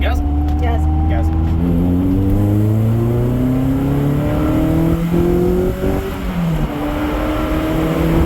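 Lotus Elise sports car engine revving hard and accelerating through the gears, a loud rising roar with climbing tones and brief shift drops, heard from inside the car with voices speaking over it.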